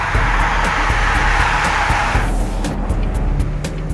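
A Jaguar F-Pace with the range-topping 3.0-litre V6 petrol engine drives on mountain hairpins, its engine a loud, continuous drone that shifts in tone partway through as it changes pace.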